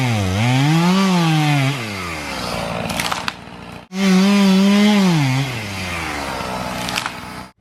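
A chainsaw fells trees while clearing land for a tiny off-grid cabin, its engine loud and close, revving up and down in two long cuts with a brief drop to idle between them.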